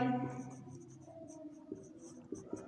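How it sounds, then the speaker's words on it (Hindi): Pen writing an equation on paper, faint scratchy strokes in short irregular bursts with soft taps, close and quiet, alone without talk. "इस पे समीकरण लिख देते हैं"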